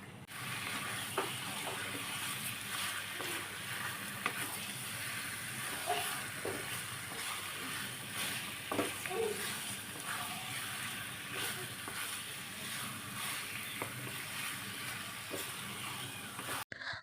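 Chicken sautéing in masala in a kadai gives a steady close hiss and sizzle that runs throughout, with occasional small scrapes and knocks and no talking.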